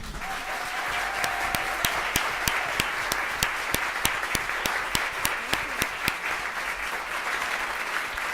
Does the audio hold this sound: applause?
yes